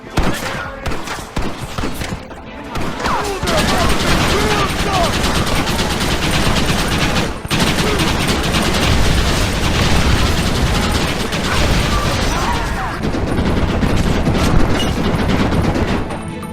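Dense, sustained gunfire from the Western video game Red Dead Redemption, with rapid overlapping shots and volleys that run almost without a break, loud and close, with voices faintly mixed in.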